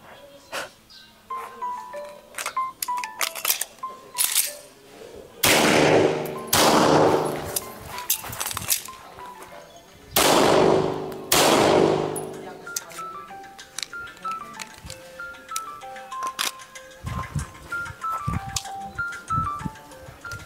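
Several sharp, loud 9mm Taurus pistol gunshots at a shooting range, close, in short spaced bursts, interspersed with metallic clicks and a beeping electronic timer.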